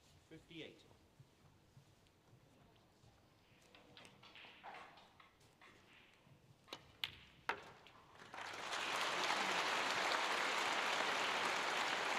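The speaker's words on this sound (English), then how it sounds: "Nice round of applause" Audience applause at a snooker match, a soft burst of clapping that rises to a full, steady round near the end after quiet play with a few sharp ball clicks and low commentary.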